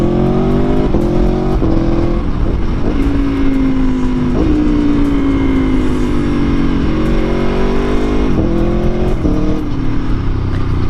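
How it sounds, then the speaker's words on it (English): A 2022 Aprilia Tuono motorcycle revs under throttle with quickshifter gear changes, each shift a quick dip in pitch between rising engine notes, loud and close throughout. "Now let's test the Quickshifter, gearbox, and throttle response."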